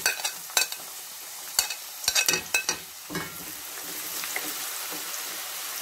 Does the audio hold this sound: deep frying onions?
yes